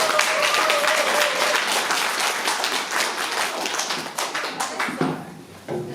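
Audience applause at an arts federation general meeting and officer election, a dense wash of clapping sustained through most of the stretch and thinning toward the end, with faint voices underneath.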